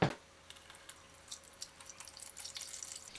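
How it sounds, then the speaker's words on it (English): Water trickles and splashes into the reservoir of a Russell Hobbs food steamer, a close, steady pour with small bright splashes that builds slightly toward the end, no talk. "I need to add water."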